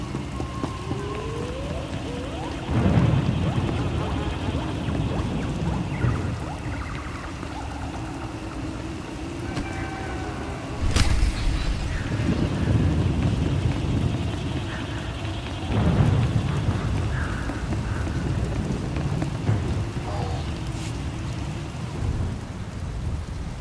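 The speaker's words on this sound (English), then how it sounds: "Hard to track them through the storm." Steady rain pours through a thunderstorm in the Star Wars game Knights of the Fallen Empire, with several loud thunder rumbles and cracks rolling in at intervals over the constant downpour.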